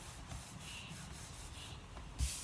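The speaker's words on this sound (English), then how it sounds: "Just going to smooth this down now to let the adhesive grab." A hand smooths card stock down onto adhesive, making a steady, soft, close rubbing hiss with gentle swells of pressure and a slightly firmer swipe near the end.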